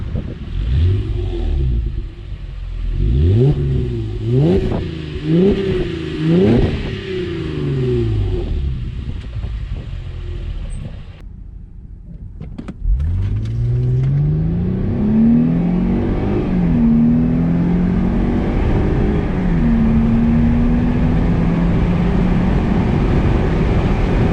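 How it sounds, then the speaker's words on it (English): A car engine starts, then revs through repeated rising gear pulls as the car drives off. After a short near-silent gap, a smoother engine climbs steadily under speed with road and wind noise, and no one speaks. "you just press the button to start the engine, and off we drive"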